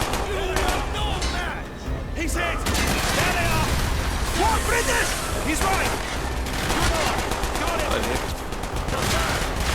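Rapid automatic gunfire in the video game Call of Duty Black Ops, loud dense bursts of shots and explosions filling the whole stretch, with a voice talking over the action.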